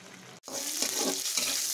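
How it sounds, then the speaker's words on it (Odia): Pumpkin flower stalks frying with onion and green chili in a pan, a steady loud sizzle with stirring scrapes, broken briefly by a short pause before the crackle resumes. "ଏହାପରେ ମୁଁ କଖାରୁ ଫୁଲର ଭୁଣ୍ଡିକୁ ଖାଲି ପିଆଜ ଓ କଞ୍ଚା ଲଙ୍କା ଦେଇ ଭାଜୁଛି"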